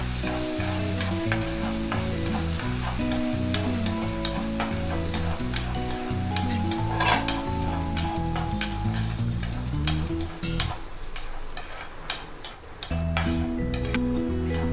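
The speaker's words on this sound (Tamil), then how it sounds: "பருப்பை நம்ம சேர்த்துட்டோம், நல்லா வறுத்து எடுத்துடலாம் நெய்யில் நம்மளுக்கு பருப்பு." Moong dal roasting in ghee while being stirred, a steady close sizzle with repeated scraping strokes running throughout, alone under a layer of background music.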